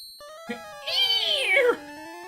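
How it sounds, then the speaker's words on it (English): A cartoonish cat screech from the Pokémon Red video game: one rising-and-falling yowl with bright harmonics, lasting about a second, heard alone after a short high electronic tone and a soft click. "Doing the Frank Welker cat screeching noises."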